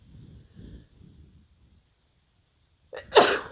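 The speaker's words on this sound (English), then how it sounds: "I think I'm gonna sneeze." Quiet murmuring fades to silence, then one sharp, loud sneeze explodes close by near the end.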